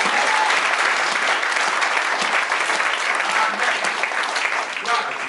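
A church congregation bursts into sustained applause after a French acclamation, a dense crackle of many hands clapping that stays loud and close, then eases slightly toward the end.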